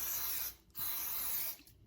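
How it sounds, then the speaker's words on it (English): Cooking spray aerosol sprayed onto a muffin pan: two short bursts of close, loud hiss separated by a brief pause. "I'm just gonna take some cooking spray"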